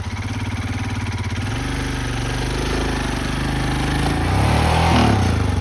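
An engine runs close and loud, idling with a fast regular throb and then revving, its pitch rising toward the end.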